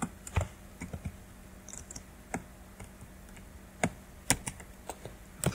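Keys on a computer keyboard tapped in sparse, irregular clicks, close and crisp, with short pauses between bursts of keystrokes and no talking.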